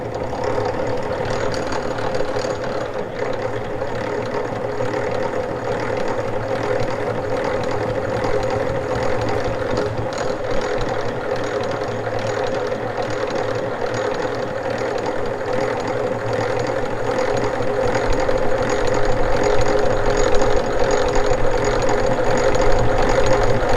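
A honey extractor spins frames of honey with a steady mechanical whir and rattling drone that builds slightly louder toward the end, close and continuous with no talk.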